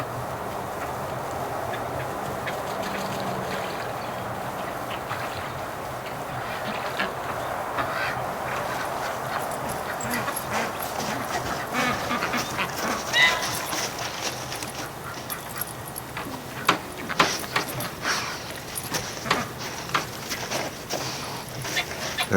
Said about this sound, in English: There's the goose back at it again.